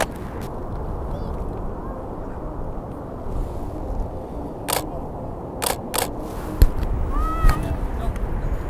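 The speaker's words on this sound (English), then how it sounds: "Now I'll try the macro to see if it makes that weird pinball noise." A Fotodiox Fusion adapter with a Nikon lens on a Sony mirrorless camera makes shutter clicks and small mechanical whirs and chirps over a steady background hiss, with a few sharp snaps and a brief rising electronic squeal.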